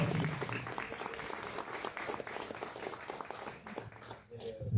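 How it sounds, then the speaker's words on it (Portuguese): Church congregation clapping in a round of applause for Jesus, dense and lively, with voices mixed in, tapering off near the end. "salva de palmas para Jesus"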